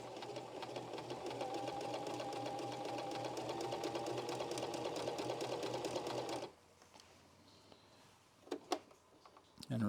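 A sewing machine runs a steady, continuous rattling stitch along a seam for about six seconds, close and even, then stops, leaving a few soft clicks and handling noises.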